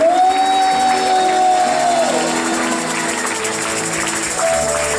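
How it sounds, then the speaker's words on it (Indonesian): A church congregation claps and cheers loudly during a worship service, a dense steady wash of applause with whoops and shouts running the whole time alongside sustained musical tones. "Tepuk tangannya kencang"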